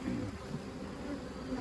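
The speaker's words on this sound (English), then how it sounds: "there's some Adair honeybees right there" Adair honeybees buzzing on a brood frame pulled during a hive inspection for a split, a faint, steady close hum with no voices.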